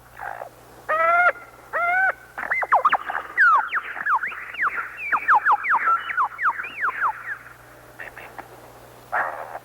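An Australian lyrebird sings close and loud in the forest, running through a varied medley of mimicked calls: repeated harmonic whistles, rapid sweeping trills and chattering phrases, with brief pauses between bursts.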